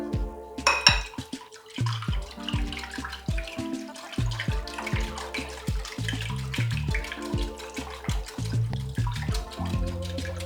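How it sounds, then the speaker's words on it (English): Two-thirds of a cup of milk is poured into a bowl of apple and oat cake batter, a close, steady liquid trickle with irregular splashy pulses and a few light clinks of the bowl. "I'm just going to add everything together. The milk is going in."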